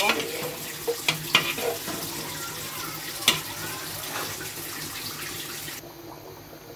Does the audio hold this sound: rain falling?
no